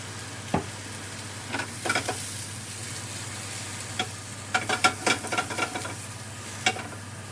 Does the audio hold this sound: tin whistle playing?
no